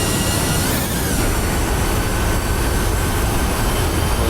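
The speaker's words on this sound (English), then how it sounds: "I'm going to go ahead and stick the gear down." In an Airbus A320 in the Prepar3D flight simulator, the landing gear extends with a loud, steady rumbling roar of airflow and mechanical noise that holds constant throughout, with no talk.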